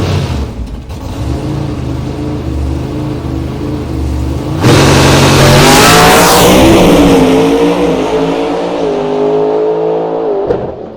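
A Mountain Motor Pro Stock drag race car at Galot Motorsports Park roars loudly and steadily, swelling sharply midway as the engine revs up, then holding a strong throbbing drone that eases slightly near the end.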